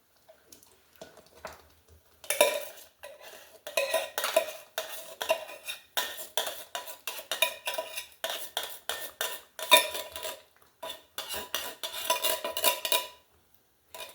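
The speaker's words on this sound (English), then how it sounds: "I'm going to put in 1 can of my chili beans with red sauce" Canned chili beans in red sauce go into a pot for a thick, hearty chili, heard as a long run of metallic scraping and clattering, with utensil knocks against cookware in quick irregular bursts.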